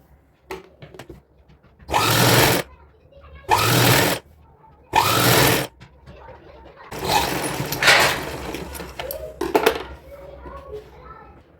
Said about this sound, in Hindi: इस तरह से सिलाई लगाएंगे।